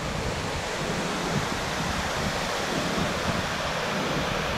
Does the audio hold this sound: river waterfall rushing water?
yes